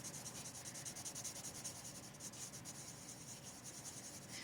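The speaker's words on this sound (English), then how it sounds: "It's taking the pencils quite well, but the paper is quite smooth" Close, steady scratching of a waxy coloured pencil rubbing over smooth paper in continuous back-and-forth strokes.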